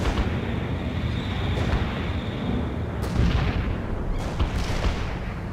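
Artillery barrage in the World in Conflict strategy game: continuous rumbling bombardment with several sharper blasts punching through, loud and dense throughout, no voices.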